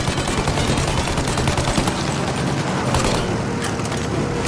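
Rapid bursts of gunfire from the video game Mafia Definitive Edition, fired at a plane's engines, crackle loudly and continuously with dense overlapping shots.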